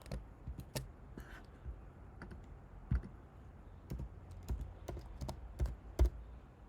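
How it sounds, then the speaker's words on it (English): A computer keyboard is typed on in short bursts of sharp clicks with scattered louder key strikes, close and quiet, a URL being entered, with no speech. "we'll just type Lucky in the URL"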